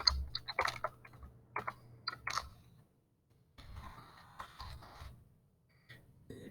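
Typing on a computer keyboard, short clusters of crisp key clicks close by, separated by quiet pauses.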